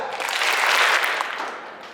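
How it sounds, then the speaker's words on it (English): A youth conference audience claps together, a dense burst of hand claps filling the hall for about two seconds and then fading, with no distinct separate beats. "Give me 3 claps."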